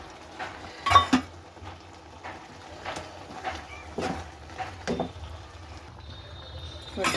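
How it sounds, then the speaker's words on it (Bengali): Oats being stirred into cooked dal and vegetables in a pot, with scattered clinks and scrapes of a spoon against the metal and a few louder knocks, all fairly quiet. "ওটসটাকে দিয়ে নাড়িয়ে চাড়িয়ে নাড়িয়ে নেবো।"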